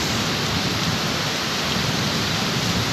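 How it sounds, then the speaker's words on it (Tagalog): Heavy rain pours over Metro Manila, a dense, continuous hiss and roar that stays loud and steady throughout, with no voices. "mga 40 minutes na umuulan ng malakas."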